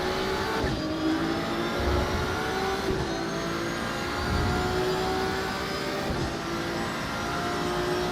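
Race car engine in Assetto Corsa Evo, a Ford, droning steadily and loudly with sustained revving harmonics that rise and fall through gear changes, close and continuous with no talk.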